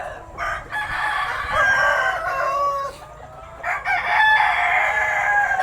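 Philippine native chickens, Banaba, Paraoakan and Joloano breeds, with roosters crowing loudly and close in two long overlapping calls amid clucking and farmyard background.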